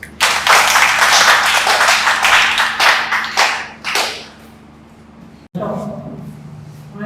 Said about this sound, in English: Thank you, and clap for yourselves.